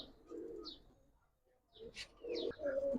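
Silver Pankhi and Cobra pigeons coo softly in short, faint phrases separated by a brief lull, with a few higher chirps mixed in, close but quiet.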